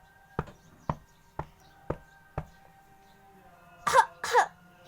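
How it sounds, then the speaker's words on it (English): Two short, rough coughs, apparently voiced in pretend play for a toy panda, come close together after a series of five sharp, evenly spaced taps in an otherwise quiet room. "He had a cough."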